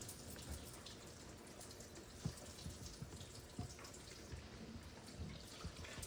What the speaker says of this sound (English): I'm just going to wash my hands really quickly